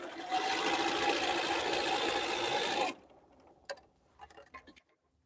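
A sewing machine quilting a pot holder runs in a steady, loud mechanical whir for about three seconds, then stops, followed by soft scattered clicks and handling taps.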